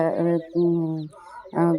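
Close village chicken vocalizations, a few drawn-out clucking calls with short gaps between them, loud and near.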